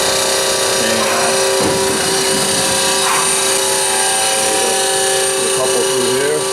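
Spartan P-65A fully automatic production circular saw running with its conveyor and spindle drive, a loud steady mechanical hum with a high whine, while someone talks over it.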